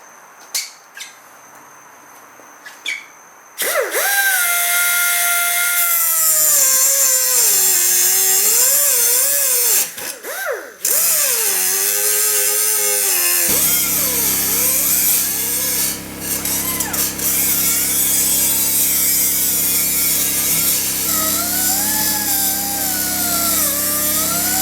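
Power tool cutting through a steel stock seat rail bracket while installing a bucket seat in a Nissan 240SX, a loud continuous whine rising and falling in pitch with brief pauses, close by and without talk.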